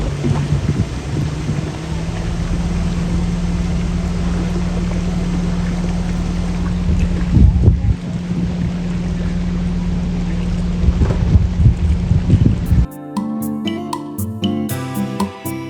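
A small canal barge ferrying cyclists across a canal between Bruges and Ghent gives off a steady, broad engine drone with a low hum, which cuts off near the end as music takes over.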